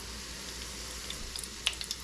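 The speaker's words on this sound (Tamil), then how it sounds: "இது நல்லா பொரியுது பாருங்கள்." Small, long-cut aubergine pieces frying in hot oil for a pickle give off a soft, steady sizzling hiss, with a few faint pops and crackles near the end.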